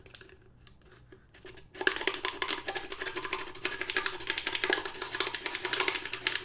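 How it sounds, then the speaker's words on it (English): Rough sandpaper rasping across an aluminium soda can, starting after a few faint scrapes and then a dense run of rapid, close, gritty strokes in an irregular rhythm. "Get this rougher sandpaper right here, just so I can connect it to something."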